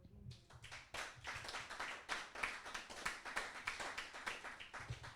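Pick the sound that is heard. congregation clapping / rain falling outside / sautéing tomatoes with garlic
congregation clapping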